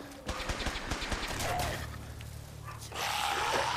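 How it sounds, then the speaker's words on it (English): Rapid bursts of gunfire in the video game Fallout 4, a dense volley of sharp cracks in the first second that gives way to a steadier rumble and a louder wash of combat noise near the end. "It is a lot of gunfire over here."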